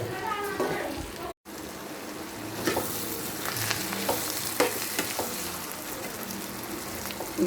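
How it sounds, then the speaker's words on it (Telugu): Eggs and onions fry in a pan with a continuous sizzle and occasional stirring clinks, after a brief cut near the start; a voice speaks faintly at the beginning. "ఆనియన్స్ కూడా బాగా ఫ్రై అయిపోయాయి."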